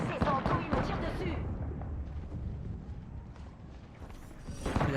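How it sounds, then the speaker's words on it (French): Gunfire in the Apex Legends video game: bursts of shots and impacts, strongest at the start and end, with a player talking over the fighting. "Ces andouilles me tirent dessus."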